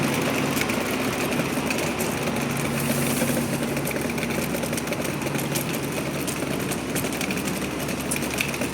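A bus engine idles in street traffic stopped at a traffic light on a rainy day, a loud steady low rumble with a continuous mechanical drone that holds throughout, with no speech.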